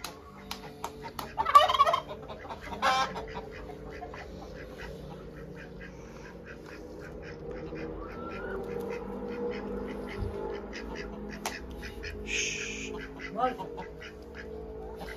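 Farm ducks quack and chatter in short scattered calls near a hay barn, mixed with other fowl and people talking and calling to the birds.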